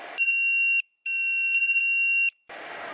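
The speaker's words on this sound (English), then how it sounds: "I've got them low voltage alarms on my lipos." Low-voltage alarm on the LiPo batteries of an electric board, loud piercing electronic tones sounding in two long sustained bursts with a brief gap, with rushing noise before and after.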